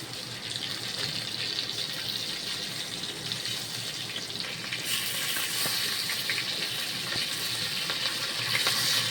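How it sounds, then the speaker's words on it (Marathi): Bangda mackerel fish frying in oil on low gas, a steady broad sizzling hiss that swells slightly partway through, close and even, with no voices. "स्लो गॅसवर फ्राय होऊया त्यांना"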